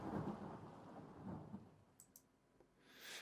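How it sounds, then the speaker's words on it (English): Thunder used as a sound effect at the end of an album track, a low rumbling roll that swells and fades, followed by a few soft clicks and a rising hiss, distant and faint. "thunder or something like that, right?"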